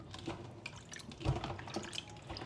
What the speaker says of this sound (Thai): ล้างด้วยสารส้ม